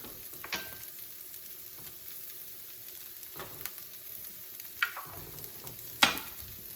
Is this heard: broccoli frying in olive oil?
yes